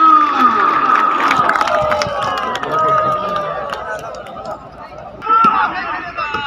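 A crowd at a kabaddi match at Dhap Stadium in Dera cheers and shouts loudly and steadily, with a fresh surge of noise near the end, and an announcer's voice runs over it.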